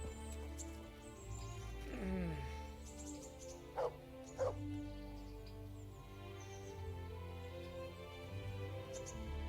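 A dog in the video game Kingdom Come: Deliverance gives two short barks near the middle, preceded by a whining yelp, over a steady low musical hum and ambient tones.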